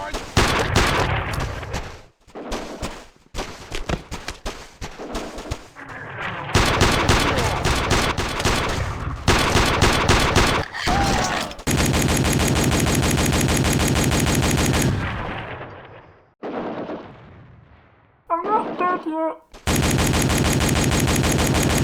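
The KS-12 scoped rifle in the 2002 shooter Iron Storm fires in rapid bursts of sharp, loud cracks, with short gaps between volleys and some longer sustained strings of shots.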